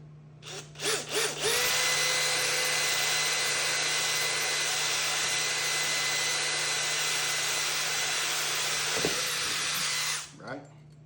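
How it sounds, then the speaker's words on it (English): A power drill with a small starter bit bores into a Predator 212 small engine's aluminum cylinder head, a steady high whine held for about nine seconds after a couple of short bursts, close and fairly loud, with no voices. "Drill your small hole there with the starter bit."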